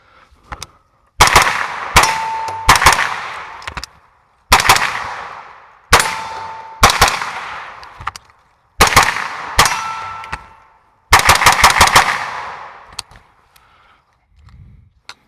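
A Colt 6450 9mm submachine gun fired outdoors in several loud, sharp bursts and single shots separated by pauses, each burst ringing with metallic echo.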